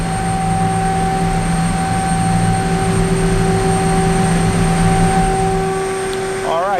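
A GLCT moulder runs steadily with its spindles turning at 12,000 RPM, feeding stock at about 40 feet a minute, giving a loud continuous machine whine and drone throughout with a brief shift near the end.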